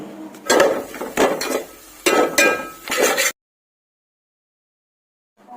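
A spoon scrapes and clinks against a cooking pan as masala is stirred, four or five close rhythmic scraping strokes, then the sound stops and near silence follows.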